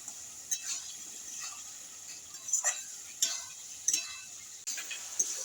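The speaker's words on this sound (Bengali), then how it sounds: "দিয়ে ভালো করে একটু কষিয়ে নেবো।" Boiled cluster figs with potatoes are stir-fried with broken chili in a pan, a faint hiss under several sharp scrapes and taps of a spatula against metal, close and without speech.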